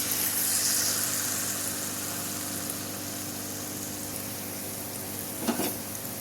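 Fritters (bora) fry in hot oil with a continuous, dense sizzle that stays close and loud throughout. A brief louder crackle comes near the end.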